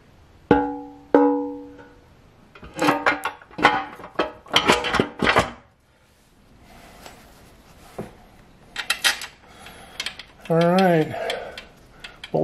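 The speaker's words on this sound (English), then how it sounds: "Bolts are going in." A ratchet drives bolts into a ZF5 transmission case during a rebuild, with clusters of close, rapid clicking bursts and pauses between them and some mechanical clatter.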